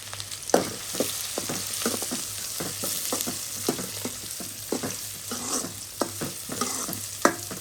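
Onion and green chillies frying in a pan while being stirred, a constant sizzle broken by frequent rhythmic scraping strokes of a spoon, close and clear with no voices.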